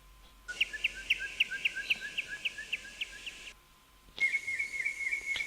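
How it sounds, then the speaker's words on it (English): Intermittent birdsong in the video game Sunset Over Imdahl: a bird's rapid series of bright repeated chirps, a pause, then another quick trilling phrase, clear and moderately close over a quiet background. "Intermittent birdsong again."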